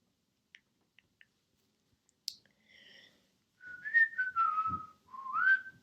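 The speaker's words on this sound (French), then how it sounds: "J'aime bien siffler." A person whistles a short tune up close, with a few soft clicks before it and then quiet melodic phrases that rise and fall.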